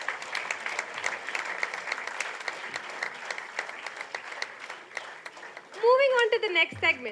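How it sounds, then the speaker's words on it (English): A hall audience at the Sansmaran 2025 alumni awards claps for Distinguished Alumni recipients, a steady run of many distinct hand claps, before a voice begins speaking over the fading applause near the end. "let's give a big round of applause for our DA recipients"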